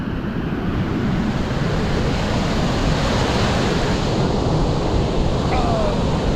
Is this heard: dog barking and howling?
no